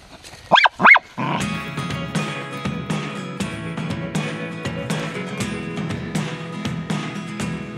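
Two loud dog barks in quick succession, close by, followed by a steady din of music-like tones and clatter on a bowhunt for warthog and impala.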